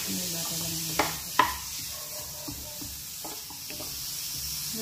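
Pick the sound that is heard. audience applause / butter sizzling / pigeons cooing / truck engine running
butter sizzling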